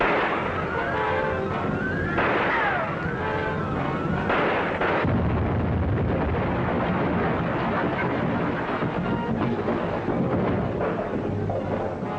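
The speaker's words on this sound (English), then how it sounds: "I guess the explosion knocked out the other guards." An explosion in a 1943 adventure film serial fills the scene with a dense, loud roar of blasts and rumbling that carries on for several seconds, with no voices audible.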